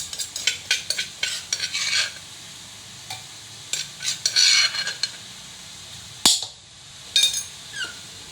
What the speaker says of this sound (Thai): ก็เอาหมูตามไปแล้วครับ ใส่พริกแกงครับ